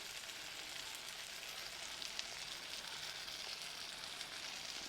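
Brinjal (eggplant) sautéing in a pan, a steady soft sizzle and crackle throughout with no pauses, fairly quiet and close.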